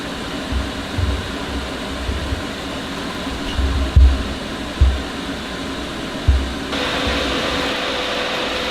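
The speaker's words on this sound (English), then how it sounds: "this is the Vortex 8-inch inline" An 8-inch Vortex inline ventilation fan in a cannabis grow setup runs with a steady, broadband airy whoosh, joined by a few low thumps and a brighter rise in hiss near the end; no one speaks.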